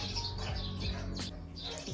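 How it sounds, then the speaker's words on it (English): Birds chirp and tweet outdoors in a quick series of high, bright calls, moderately close, with a low background hum underneath and no talking. "swear to God, these fucking birds"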